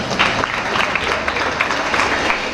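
Dense, continuous audience applause at a school annual day celebration, loud and steady for the whole stretch with a murmur of the crowd beneath.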